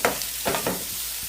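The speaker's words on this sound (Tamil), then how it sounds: "கண்ணாடி பதம் வர அளவுக்கு வெங்காயத்தை வதக்கணும்." Chopped onions sautéing in a pan, heard as soft sizzling with a few quick stirring scrapes, faint and close, with no voices.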